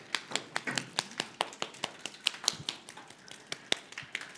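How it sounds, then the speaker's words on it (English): Hands pat and clap along the arms during a standing warm-up exercise in a student workshop, producing a quick series of light, dry slaps in an uneven rhythm, fairly close and moderately quiet. "We start clapping our arms upside down."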